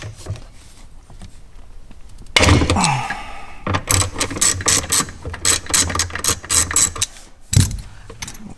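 A ratchet with a T50 bit loosens the bottom seat belt bolt in a BMW M3. After a brief clatter, quick bursts of close, crisp clicking repeat in a steady rhythm.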